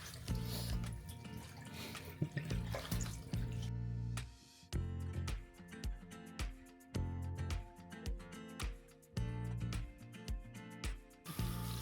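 A merino wool shirt being washed by hand under a running tap, with bursts of splashing water, drips and squishing cloth, alternating with brief pauses.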